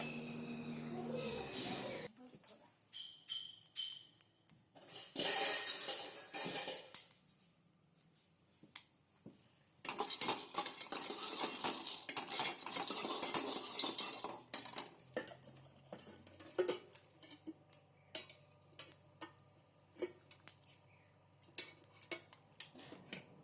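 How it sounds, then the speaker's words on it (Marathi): Peanuts roast and are stirred in a pan, giving scattered rattling, scraping and clinking of nuts against metal in irregular bursts, fairly faint and close, with a person speaking in between. "शेंगदाण्याला एका पातळ्यामध्ये टाक भाजून घेऊ"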